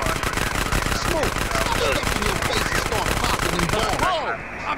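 Rapid automatic gunfire from GTA San Andreas rattles almost nonstop during a drive-thru mission, loud and close, with voices shouting over it.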